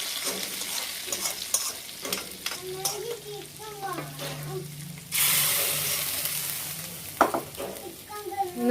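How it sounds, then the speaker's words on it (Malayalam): Fried coconut and curry leaves are tipped into a pan of chicken curry, starting with scraping and stirring clatter before a sudden loud hiss and sizzle, then more spoon knocks and stirring close by. "ഇനി നമുക്കിത് ചിക്കൻ കറിയിലോട്ട് വറുത്തിടാം."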